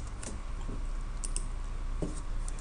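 A computer keyboard typing in a jQuery web form, a few sparse, light key clicks spread across a couple of seconds over a steady background hiss.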